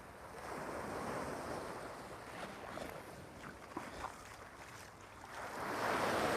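Sea waves at high tide wash steadily onto Hua Hin beach in Thailand, a continuous close surf roar with rising and falling swells, wind buffeting the microphone and swelling louder toward the end, with no talk.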